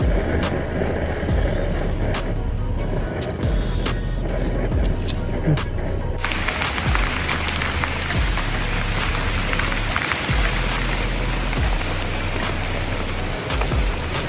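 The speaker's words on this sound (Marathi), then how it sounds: "बघू शकता पाऊस डबल सुरू झालेला आहे" Continuous heavy rain in the mountains with sharp drips and patters, a low rumbling hum underneath, and the downpour growing brighter and denser halfway through.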